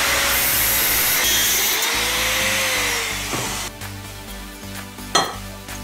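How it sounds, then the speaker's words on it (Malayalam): Scrap metal being cut for a bike model sculpture with a power tool makes a loud, continuous grinding whine that eases off partway through, then gives way to scraping clatters and a sharp knock near the end. "ഇനി നമുക്കിതിനെ ഈ ഒരു കുറച്ച് വന്ന് കട്ട് ചെയ്യാം"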